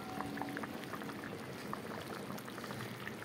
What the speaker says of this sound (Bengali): এখানে তরকারিটাও উতরান উঠে গেল